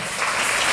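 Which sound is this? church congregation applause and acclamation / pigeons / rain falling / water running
church congregation applause and acclamation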